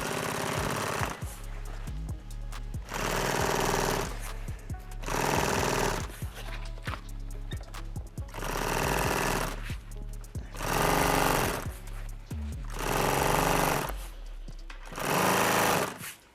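Sewing machine stitching along the handle-side top of a fabric piece being prepared for foam stuffing, running in loud repeated bursts of rapid mechanical chatter separated by short pauses.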